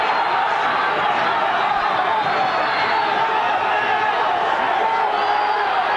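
A boxing crowd roars steadily behind a fighter, a dense, loud, unbroken wash of voices and shouts at a 1983 bout, with a commentator talking over it.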